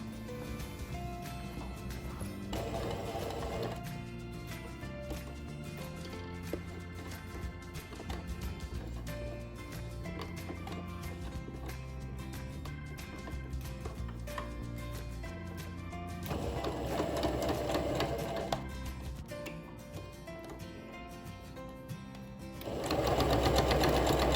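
A sewing machine stitching the pocket of a crochet bag, running in long steady mechanical bursts with brief pauses and faster stretches, close and clear.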